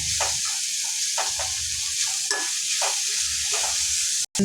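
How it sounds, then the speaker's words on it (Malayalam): Paneer masala stirred in a pan, with a steady broadband sizzle under irregular scraping strokes spaced about half a second apart, close and moderately loud throughout, ending with a brief sharp knock. "നമുക്ക് കുറച്ച് നേരം ഇങ്ങനെ ഇളക്കി കൊടുക്കാം."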